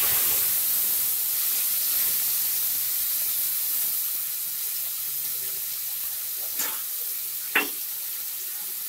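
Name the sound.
water added to hot pan, hissing steam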